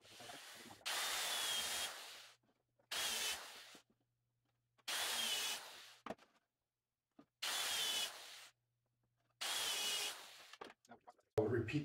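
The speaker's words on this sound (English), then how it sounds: "I'll put the drill in the center of the 1/2 inch and drill through and countersink it down." A power drill boring through wood and countersinking a half-inch hole in craps table chip trays: five bursts of loud whirring, each about a second or more, separated by silent pauses.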